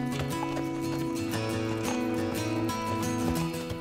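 Horse hooves clip-clop in a steady repeated rhythm while the horse is trained to cope with town traffic, close and clear over a constant background of street noise.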